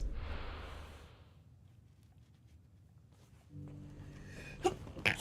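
A person sneezes once close to the microphone, a loud breathy burst at the start, followed by quiet shuffling and a few soft clicks.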